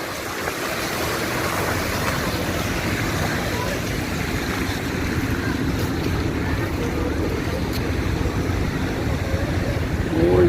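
After heavy rain in Medina, Saudi Arabia, rainwater flows into a drain as a steady, close rushing wash that continues throughout, with a voice heard at times over it.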